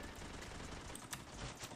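Rapid bursts of gunfire in a shooting video game, a quiet crackle of repeated shots with a few sharper cracks standing out near the middle.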